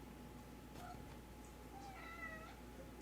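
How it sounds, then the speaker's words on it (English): A cat meows softly a few times from somewhere nearby, faint short cries over a steady low hum, with no speech. "There's a kitty meowing at me,"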